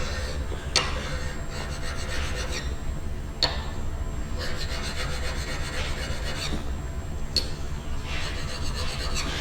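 A parting chisel being honed with strokes on a leather diamond hone, giving steady close rubbing and rasping strokes, a few sharper scrapes standing out, with no talking.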